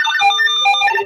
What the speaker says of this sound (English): At this time, you can adjust the ringtone.